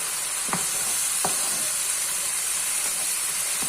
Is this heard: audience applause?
no